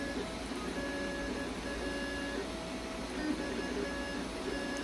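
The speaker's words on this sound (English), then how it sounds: "Look at it's shaking the whole printer." A Creality Ender 5 3D printer driven by a Sonic Pad runs steadily, a faint continuous mechanical hum and whir with repeated short stepper-motor whines, no talking.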